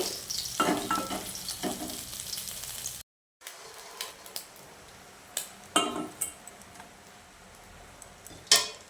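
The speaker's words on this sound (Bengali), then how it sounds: "আমার মাছ ভাজাগুলো হয়ে যাচ্ছে" Tengra fish frying in oil in a pan: a steady close sizzle for a few seconds, then after a brief silence, scattered clinks and scrapes of stirring with a spatula against the pan over a fainter crackle.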